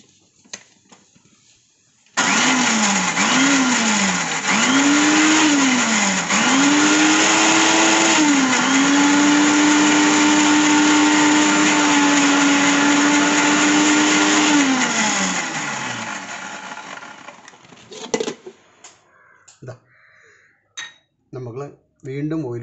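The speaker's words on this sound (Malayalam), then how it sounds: "നമുക്ക് മിക്സി ഓൺ ചെയ്യാം" An electric mixer grinder whirs loudly while blending homemade mayonnaise with oil. It gives a few short pulses, then runs steadily for about twelve seconds before winding down, followed by scattered clinks and clatter.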